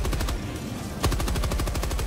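Rapid automatic gunfire from a gun in Helldivers 2, a loud close stream of evenly spaced shots that briefly pauses, then resumes in a dense burst.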